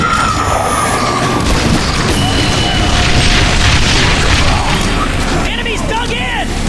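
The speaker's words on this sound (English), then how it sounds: "Bringing in support fire!" Support-fire explosions boom and crash in the video game The Bureau: XCOM Declassified, loud and continuous with rumbling debris and battle noise throughout, while a voice calls out near the end.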